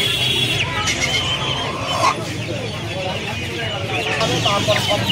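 Chickens cluck and squawk continuously at the busy Uluberia hen market near Kolkata, a dense mix of many birds close by, with people talking throughout the crowd noise.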